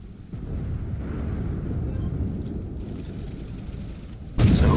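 A single heavy tank cannon shot from a K21 XC-8 in the game Armored Warfare bursts out near the end, over a steady low engine rumble.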